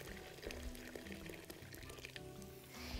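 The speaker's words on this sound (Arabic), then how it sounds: "انا محتاجه ازود شويه ميه عشان كده انا مطلعه الكاتل بقالي شويه." Water pours steadily from a kettle into a pan of rice frying in a home kitchen, a continuous splashing stream with sizzling that lasts the whole few seconds.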